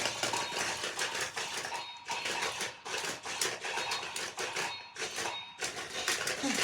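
Robo Kombat toy robots punch each other in a fast, continuous clatter of plastic impacts and whirring motors, loud and close, with brief gaps near two and five seconds.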